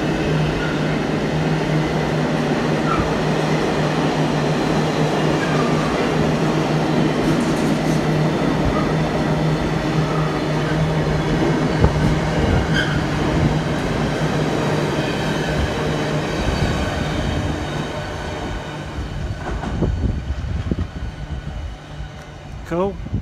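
Container train hauled by a GBRF Class 66 diesel passing through Leicester railway station, a steady loud rumble with engine drone and faint rail clatter filling the whole stretch, easing slightly toward the end.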